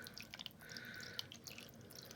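Water pours into a crock pot in a soft, faint trickle with light splashing and dripping for a couple of seconds.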